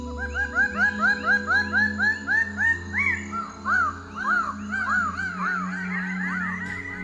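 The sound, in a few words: greater bird of paradise calling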